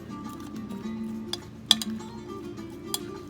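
A spoon stirring a rhubarb crumble mixture with raisins in a bowl, a few faint scraping strokes with two or three crisp clinks against the dish, quiet and close, without talk.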